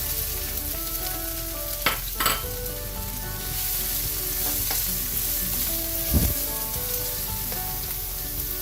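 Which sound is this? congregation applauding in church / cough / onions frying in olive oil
onions frying in olive oil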